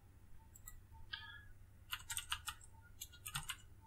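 Quiet clicking of a computer keyboard being typed on, a few scattered keystrokes, then two quick bursts of rapid clicks close to the microphone.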